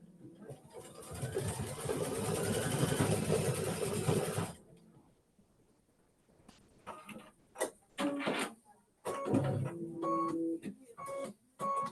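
An embroidery machine stitches out a quilt block with a steady, close mechanical whirring for several seconds, then stops, followed by scattered clicks, handling noises and brief voice sounds.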